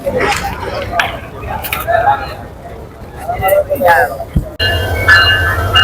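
A train moving past a station platform, its rumble and rattle steady under a crowd's babble, with a heavier low rolling drone in the last second.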